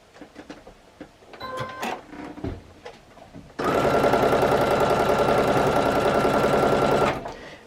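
Sewing machine chain piecing a log cabin quilt block, starting after quiet handling and fabric rustle, then running in a loud, steady rapid stitching burst for several seconds before stopping.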